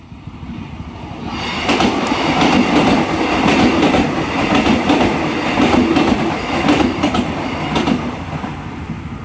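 A Jakarta airport train passes near Taman Kota station by a railroad crossing, loud and close, with a rising roar and rhythmic clickety-clack of wheels over rail joints sustained for several seconds, no voices.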